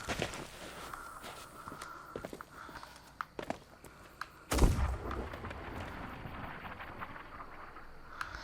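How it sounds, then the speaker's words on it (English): Cannon fire in the pirate video game Sea of Thieves: a single sharp, loud boom about halfway through, with a rumbling tail over softer game sounds and scattered thuds. "Someone fired a cannon."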